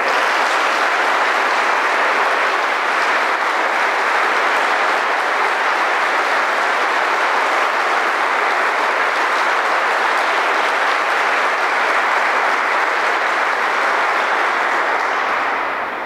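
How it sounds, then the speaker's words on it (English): Long, loud, unbroken applause from a large audience for award recipients at a Villanova University Navy ROTC spring review ceremony. It holds steady for about sixteen seconds before tapering slightly at the end, with no voices. "please join me in a round of applause for our award recipients"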